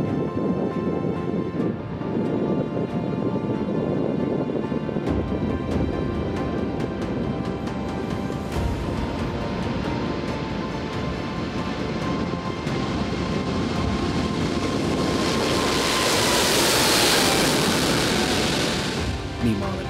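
A PIA passenger airliner carrying 303 passengers powers down the runway on takeoff, its engines building to a loud sustained roar with a rising whine, under someone narrating.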